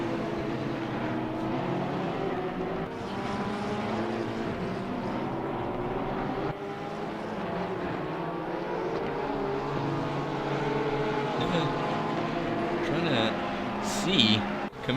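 Race cars from a racing video game at the Barcelona circuit, steady engine whine with rising and falling pitch as cars pass and shift, running continuously under an ongoing commentator's voice.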